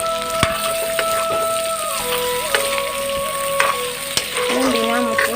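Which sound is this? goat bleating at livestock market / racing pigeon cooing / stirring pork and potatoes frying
stirring pork and potatoes frying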